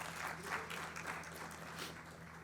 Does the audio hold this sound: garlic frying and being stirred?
no